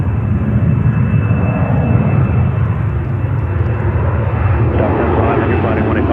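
A Qantas jet airliner on runway 13 left at JFK in New York makes a loud, sustained engine roar, with a steady high whine and a voice faintly underneath.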